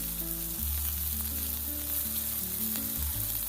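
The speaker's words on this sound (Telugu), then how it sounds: "తర్వాత సన్నగా తరిగిన బీన్స్ వేసుకోండి." Finely chopped beans and vegetables fry in a pan for a Schezwan Manchurian, making a constant close sizzle with low hum beneath. Nobody speaks.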